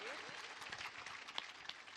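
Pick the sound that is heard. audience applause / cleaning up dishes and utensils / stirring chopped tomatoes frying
audience applause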